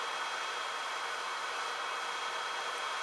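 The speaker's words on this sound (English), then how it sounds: "if I can cut that airflow down, just barely get that dryer going in there" A dryer blows air into a homemade forge built from a car wheel, giving a steady, even rush of air at low level with no break across the clip.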